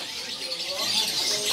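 A pair of jalak suren (pied myna) birds at the Pramuka bird market in a dense chatter of high chirps and whistles, moderately near over a busy background.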